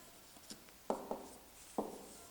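Chalk or marker writing on a classroom board, three or four short faint scratchy strokes in quick bursts against a quiet room.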